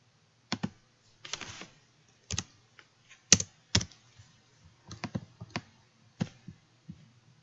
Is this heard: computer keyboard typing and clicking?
yes